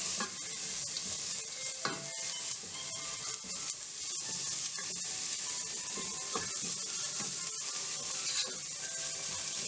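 Chopped carrots and onions sauté in a pan for paneer fried rice, a continuous close sizzle with frequent scraping and clinking stirs of a spoon against the pan.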